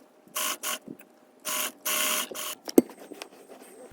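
A sewing machine stay-stitches charmeuse fabric in short, quick bursts with gaps between them, close and fairly loud, ending with a sharp click.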